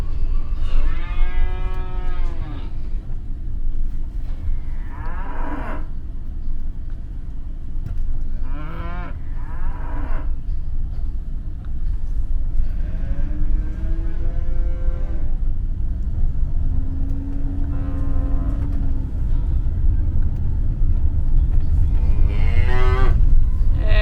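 Cattle stand in a road in Panama and block traffic, with repeated loud, close moos and long bellows every few seconds over a low steady rumble of idling vehicles.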